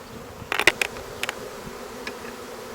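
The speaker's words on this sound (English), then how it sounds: "found this swarm on a pear tree today and wanted to catch all these bees that we could." Honey bees from a swarm caught on a pear tree buzz around a hive, with faint background humming and a few brief, louder buzzes as single insects pass close by.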